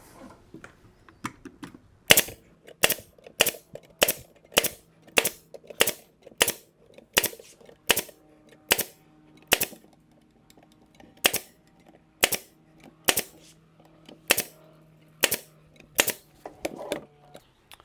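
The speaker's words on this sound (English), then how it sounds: "All right, now nail gun, nail these up." A pneumatic nail gun fastens wooden planter boards in a steady series of about two dozen sharp, loud bangs, evenly spaced at roughly one per second with brief quiet gaps between shots.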